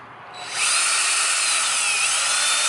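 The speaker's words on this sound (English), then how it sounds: "I just put my drill on it, put a little valve grinding compound onto the face of each one" A power drill spins an engine valve against its seat with grinding compound during a valve job, a steady loud high whine that starts abruptly and holds constant, with no speech.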